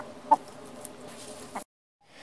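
A single short cluck from a very small young rooster against a quiet background, followed by a brief silence.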